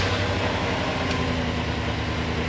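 A lifted Cadillac Escalade V8 with aftermarket exhaust runs with a steady, dense rumble and a whiny mechanical hum of pulleys and belts over it, continuous and close throughout.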